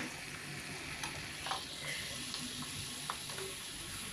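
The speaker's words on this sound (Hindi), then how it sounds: "अब हम इसमें दाल जो हमने बॉईल करके रखी है वो डाल देंगे" Boiled whole urad dal stirred into well-roasted fried masala for a dhaba-style dal, giving a steady low sizzle with a few scraping clinks of a spoon, close and moderately quiet, with no talking.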